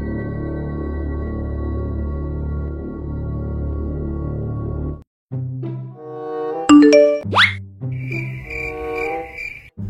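A WhatsApp message tone chimes on a phone during a night on Mount Gede, a short bright ping rising out of a steady cricket-like hum, with other short electronic blips around it.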